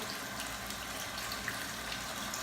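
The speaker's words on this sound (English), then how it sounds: "Let me go ahead and rinse my face, and I'll be right back." Tap water running steadily into a sink while rinsing the face after a shave with a Merkur 38C razor, a faint continuous hissing splash with no talk.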